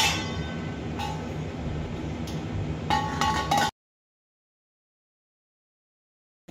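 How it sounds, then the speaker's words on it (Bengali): A lid set onto a pot of jackfruit chicken biryani, giving a few close, ringing clinks over a steady background hiss, with a brief clink early on and a cluster of sharper clinks near the end before sudden silence. "এখন এটাকে আমি ঢাকনা লাগিয়ে রেখে দেব 10 মিনিটের জন্য।"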